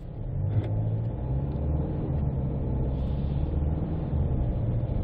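A 2020 Kia Carnival minivan pulls away and accelerates, its engine giving a steady, close interior rumble that builds slightly without talk.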